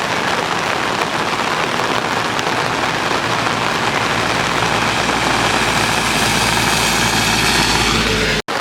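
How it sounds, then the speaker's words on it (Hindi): Heavy monsoon rain pours steadily on a roadside in North East India, a dense, continuous roar with a low engine-like rumble underneath, close and loud throughout before cutting off abruptly at the end. "तो यहाँ पे नॉर्थ ईस्ट में बहुत बारिश होती है और वैसे भी ये बारिश का मौसम है।"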